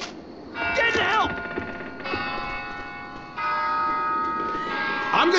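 A bell tolls in Left 4 Dead 2 gameplay, sustained ringing tones that sound, fade and strike again, with game noise and a brief voice mixed in.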